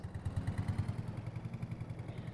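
An oldtimer tractor engine in Farming Simulator 22 chugs with a quick, even low-pitched pulse, running quietly and steadily throughout.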